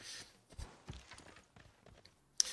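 Horse hooves of a cavalry unit in Civilization VI, a few soft irregular clip-clop thuds at low level, ending in a brief sharp click.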